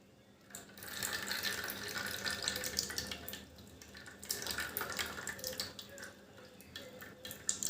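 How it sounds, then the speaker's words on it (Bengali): Liquid is poured through a thin cotton cloth into a bowl, giving a faint, continuous trickling and splashing that swells and fades over several seconds, quiet and without talk. "আমি এই যে একটা সুতির পাতলা কাপড় নিয়েছি, এর মধ্যে এবার আমি এটাকে ঢেলে দিচ্ছি।"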